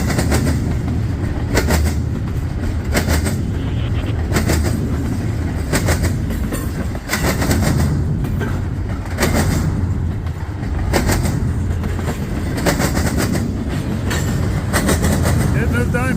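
A CSX freight train rolls over rail diamonds, making loud, close, repeated heavy bangs and clacks in uneven bursts over a constant rumble of wheels and cars.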